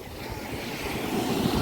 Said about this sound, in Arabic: لان الموج بيخبط